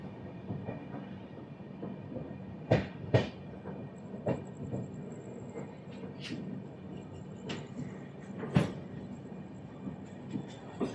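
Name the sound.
Visakhapatnam-Howrah superfast express train running on rails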